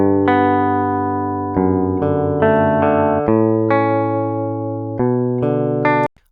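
Dry MIDI guitar from a sample library with no amp simulation, a short run of clean plucked notes and repeated picking, close and even, ending abruptly.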